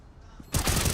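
A burst of rapid gunfire erupts in a Counter-Strike match on the Overpass map at a grand-final esports event, loud and dense after a quiet half-second of low background hum, with shots fired in quick succession.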